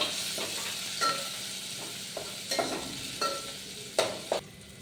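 Garlic fries in hot oil for dal tadka, a faint steady sizzle underlying a few soft stirring scrapes and taps of a spoon in the pan, with no one speaking.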